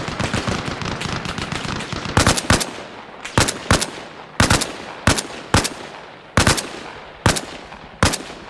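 Rapid bursts of automatic gunfire from the Jeep simulator video game, starting as a dense continuous rattle and then breaking into sharp, loud separate volleys about once a second.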